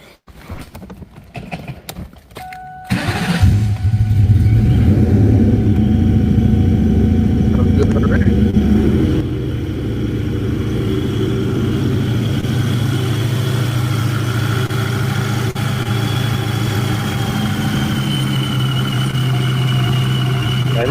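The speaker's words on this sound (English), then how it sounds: "I was going to say, I hear a supercharger." Supercharged muscle car engine fitted with a ProCharger catches after a few cranking bursts, then settles into a loud, steady idle with a whining top note, with talk over it.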